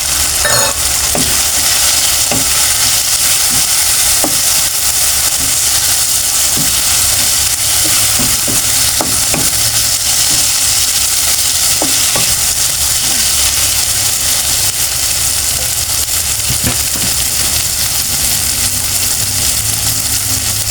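Smoked fish stir-fried with kangkong, tomato and okra stems in a pan, giving a steady loud sizzle and hiss with scattered clicks of stirring throughout, no talking.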